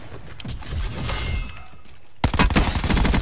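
Rapid burst-fire gunshots crack out in a Call of Duty: Black Ops 4 multiplayer match, loud and close, following a lower rumble of game action and ending in a dense string of shots.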